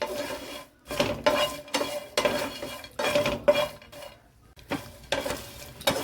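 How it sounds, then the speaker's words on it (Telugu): Dried shrimp roast in a metal pan while a spoon stirs them, making repeated scraping, rattling strokes in an uneven rhythm with short pauses between, close and fairly loud, with a faint sizzle and no talking. "వెండ్రీలు కూడా కొంచెం బాగా వేయించుకున్నామండి"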